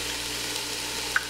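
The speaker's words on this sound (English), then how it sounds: "add in our carrots and our celery" Carrots and celery sizzling in a soup pot for beef barley soup, a soft continuous frying hiss with one small click, no talking.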